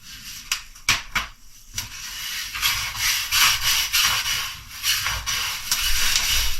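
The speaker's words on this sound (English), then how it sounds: "start bringing your squeegee across" A squeegee drags and rubs across a semi truck mud-flap being made for a Kenworth K100, giving a close, steady scraping swish with a few sharper squeaks early on.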